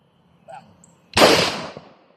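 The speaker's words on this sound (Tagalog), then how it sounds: "Continuous firing. Continuous firing." A single sharp gunshot cracks loudly at an outdoor firing range and decays quickly, preceded by a brief faint voice.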